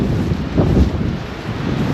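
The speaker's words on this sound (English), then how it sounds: "On a windy day like this" Wind gusts across a microphone outdoors in a park, a loud, low, continuous buffeting roar with no voices.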